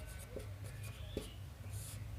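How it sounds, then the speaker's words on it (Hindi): A teacher writes a definition on a board during a class 11 trigonometry lesson, producing faint, scratchy strokes that come in short, irregular bursts over a low, steady hum. "एक परिभाषा लिखता हूं मैं।"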